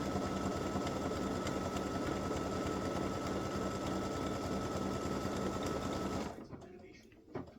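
An embroidery machine hums and chatters continuously at close range as it sews a triple stitch on a mug rug, then stops abruptly, leaving a few quiet rustles.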